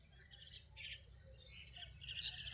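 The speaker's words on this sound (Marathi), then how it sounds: "हे पाय हे कबूतर" Pigeons and other birds at the Shembal Pimpri bus stand give a steady stream of close, bright chirps and calls over a low rumble of background noise.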